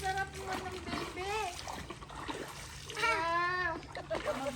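A baby splashes in shallow, clear water, with intermittent splashes and trickles mixed in among adult speech and the baby's own vocal sounds nearby.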